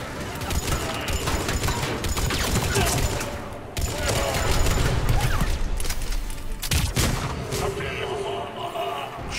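Rapid bursts of turret gunfire and explosions in Mass Effect 3 on Tuchanka crowd a dense, loud soundscape, with mechanical clatter and a brief pause partway through.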